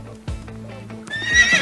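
A horse whinnies with a rising, bright neigh while hooves clip-clop in a steady rhythm, close and fairly loud, with no talking over it.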